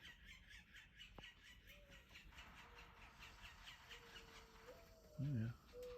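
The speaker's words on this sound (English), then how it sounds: "Blue jays are getting a bit frisky today." Blue jays squawking at a backyard feeder where woodpeckers also visit, faint and distant calls with one louder harsh squawk near the end over quiet outdoor ambience.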